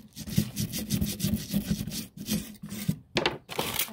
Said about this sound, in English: And then back with the sandpaper.